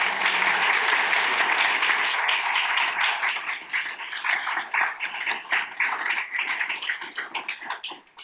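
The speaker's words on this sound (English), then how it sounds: "Let's give them a round of applause" An audience at a bibliographical society's annual meeting applauds, a full burst of clapping that holds steady at first and then thins out and fades toward the end.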